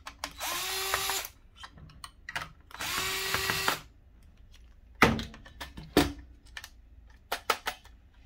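A power screwdriver whirs in two long bursts while removing screws from the print head of a Zebra ZQ620 thermal printer, followed by several sharp clicks and taps of small parts, close and fairly loud.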